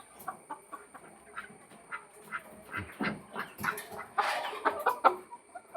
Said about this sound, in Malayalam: ഇത് നമ്മുടെ കോഴികളും താറാവും.